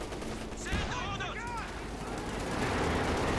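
An MG-34 machine gun opens fire in a Company of Heroes 2 match, its bursts rattling under a commentator's steady talk alongside other battle noise.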